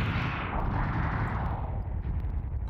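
A loud, rumbling explosion in Mega Man X bursts and then slowly fades into a crackling, decaying roar.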